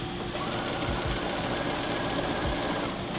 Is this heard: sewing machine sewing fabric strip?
yes